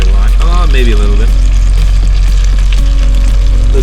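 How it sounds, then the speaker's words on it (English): Food sizzles in an air fryer, a steady close frying crackle under a constant low hum, with a voice speaking briefly near the start. "Listen to that sizzle."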